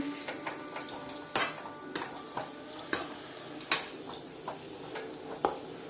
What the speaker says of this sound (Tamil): சால்ட்டு போட்டு நல்லா கிளறி விட்டுக்கோங்க.